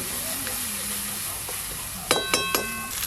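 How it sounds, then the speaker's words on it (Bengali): Sizzling hiss of spices frying with ginger and green chili in a pan, a steady close frying sound broken near the end by three sharp metallic clinks of a utensil stirring against the pan. "হলুদ গুঁড়ো ধনে গুঁড়ো কাশ্মীরি লঙ্কা গুঁড়ো লবণ সব মশলা ভালো করে কষানো হয়ে গেল"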